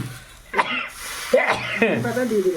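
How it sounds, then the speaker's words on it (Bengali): A person coughs and clears their throat a few times in quick succession, close and fairly loud, mixed with voiced sounds. "এখানে কাশি এসে যাচ্ছে"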